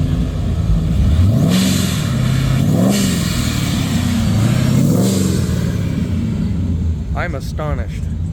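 A supercharged car with a roughly 6-litre engine revs hard in repeated rising and falling sweeps over steady road noise, loud and close, with a brief higher whine near the end.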